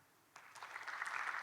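Students at an orientation session for international first-year university students break into clapping partway through, the applause rising quickly and building into a steady, fairly faint crowd patter.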